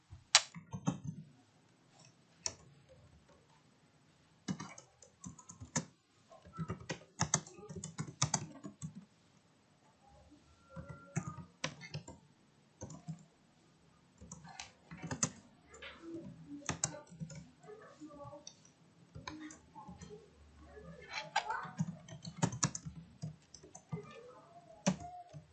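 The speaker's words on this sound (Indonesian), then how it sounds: "Kita ketik node." Someone types code on a computer keyboard in Visual Studio Code, producing irregular bursts of close, crisp key clicks with short pauses between them.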